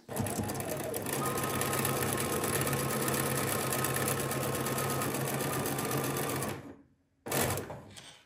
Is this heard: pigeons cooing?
no